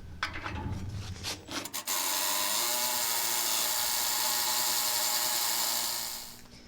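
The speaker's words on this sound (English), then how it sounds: "we're going to drill through this stock now." A steady, loud grinding rasp of a drill biting through metal, preceded by a few short scraping bursts, running continuously for several seconds before trailing off.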